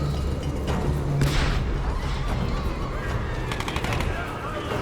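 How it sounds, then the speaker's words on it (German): Gunfire in the Tomb Raider video game, a dense run of shots and booms under a continuous loud game soundscape, with a voice talking over it. "Hier schießt jemand, das höre ich doch"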